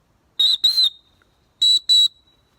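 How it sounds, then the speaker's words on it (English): Four sharp, shrill whistle blasts, close and loud, in two quick pairs separated by a short pause. "it also has a whistle there"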